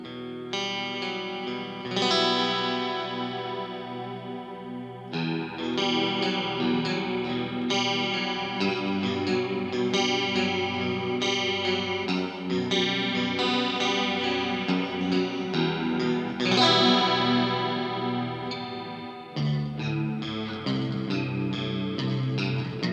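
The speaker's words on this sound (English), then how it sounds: "I'm going to stick on a bit of delay and reverb as well here, just to kind of give you like this big sort of, you know, washy chorus sound" An electric guitar runs through a Digitech Whammy V on its chorus setting with added delay and reverb, playing sustained chords and note runs in a wide, washy, shimmering tone that rings on without any voice.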